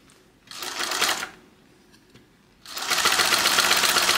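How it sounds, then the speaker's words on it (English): A Yamata 1341 industrial cylinder arm sewing machine stitches a purse handle in two bursts, a short run and then a longer sustained one, each a close, rapid mechanical whir, with quiet pauses between. "this is a industrial machine, a Yamata"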